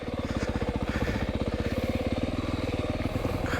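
A 2025 Yamaha YZ450FX dirt bike idles in first gear, its engine thumping in a steady, rapid low pulse up close, continuous and loud with no talk over it.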